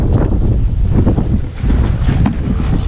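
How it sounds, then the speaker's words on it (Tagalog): Strong wind roars and buffets against the microphone at a building site, a constant low rumble with gusty swells throughout. "napakalakas po ng hangin dito sa ating site"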